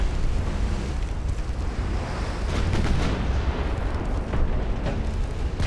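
Torpedo detonation in a naval strategy game set in the 1900s, a heavy booming rumble with rolling, surf-like roar and scattered bursts over several seconds.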